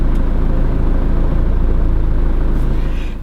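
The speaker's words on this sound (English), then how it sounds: "press this button and automatic levelling, it says at the top, and that's exactly what it's doing now" Goldschmitt air suspension levels a Niesmann + Bischoff Arto 88EK motorhome automatically on a sloping pitch, giving a steady, loud, close low rumbling hum that holds throughout and eases slightly at the end, with no talking.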